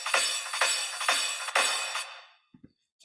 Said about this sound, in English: then you obviously got the crash and the build